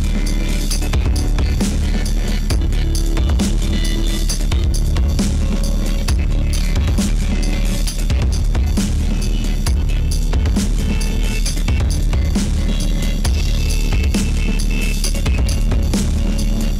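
A full music mix driven through heavy saturation in mid-side mode plays loud and dense, with thick distorted low end and crunchy, gritty highs sustained throughout, steady and close, with no voice.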